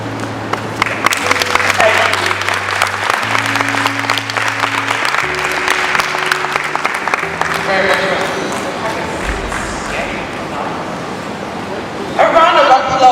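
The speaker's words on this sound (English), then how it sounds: "A round of applause for her." An audience claps steadily at an indoor women's empowerment event, with sustained applause mixed with sustained musical tones and some voices, swelling again near the end.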